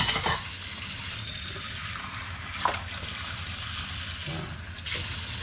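Water runs steadily while ingredients soak in a small bowl, a continuous splashing wash with a couple of brief clatters, no voices.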